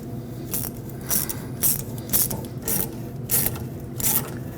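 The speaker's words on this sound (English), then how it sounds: "And then we'll bring the clamp up and we'll tighten that." A worm-drive hose clamp being tightened on the fuel filler neck of a 2005-2021 Nissan Frontier: sharp, crisp ratcheting clicks come in a steady series of about eight, up close, with a low hum of workshop noise underneath.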